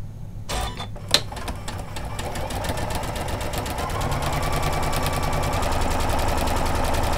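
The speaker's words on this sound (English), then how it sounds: "Let's stitch the other side." A Janome sewing machine fitted with an edge guide foot runs steadily, stitching down ribbon in a continuous close mechanical whir that rises slightly in loudness, preceded by a few brief clicks and knocks.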